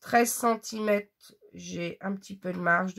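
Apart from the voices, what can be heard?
No everyday noise stands out behind the speech.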